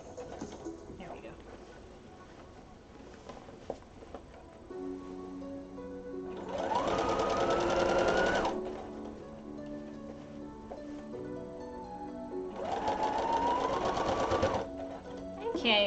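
Sewing machine stitching a garment armhole, two loud whirring bursts of stitching a few seconds apart, with quieter handling sounds and a voice talking in between.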